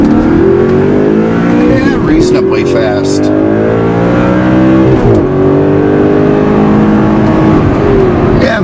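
An Audi R8 engine revs hard from behind the cabin as the car accelerates, its loud, rising drone climbing and dropping with gear changes. Someone speaks briefly over it.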